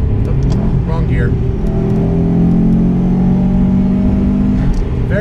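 A modified 2007 Subaru STI being driven, its engine droning loudly and steadily from inside the car, with the pitch climbing as the revs rise partway through.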